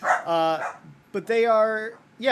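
A dog barks loudly and close by in a couple of sharp bursts, partly overlapping a voice talking indoors.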